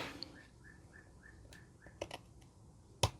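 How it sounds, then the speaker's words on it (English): A small bird in a garden gives a series of about six short, evenly spaced whistled chirps, fairly faint and distant, with a few soft taps and clicks from crafting work nearby. "What type of bird was that?"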